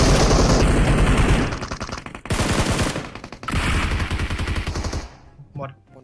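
Rapid bursts of automatic gunfire from PUBG Mobile, loud and close, firing in stretches with brief gaps before dying away to faint sounds at the end.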